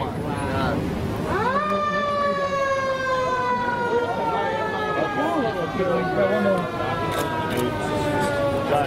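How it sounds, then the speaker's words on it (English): A loud ambulance siren wails steadily outside a restaurant in West Hollywood, its tone sliding slowly downward and holding, with voices talking underneath throughout. "Ambulance just pulled up."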